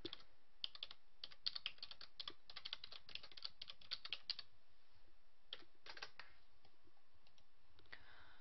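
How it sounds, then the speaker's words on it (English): Fingers typing on a computer keyboard, rapid close key clicks in irregular bursts with short pauses between, thin and quiet with no talk over them. "Start by typing in your name."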